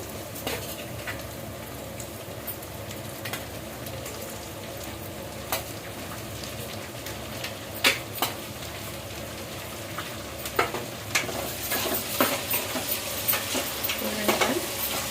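Tomato pieces tumble into an okra curry frying in a pan, giving a steady close sizzle with scattered scraping stirs and clacks, louder bursts of sizzling toward the end.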